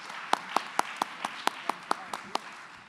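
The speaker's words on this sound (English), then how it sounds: "Yes, give them a round of applause." Slow, evenly spaced hand claps, about ten in all, sound quietly at an event recognising a STEM education effort; they register as a small, sparse round of applause rather than a full crowd.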